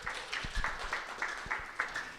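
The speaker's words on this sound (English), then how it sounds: "Clap if you know your strengths." An audience at a young leaders talk claps in response to a prompt, a quiet, loose patter of hands at moderate distance, with no speech over it.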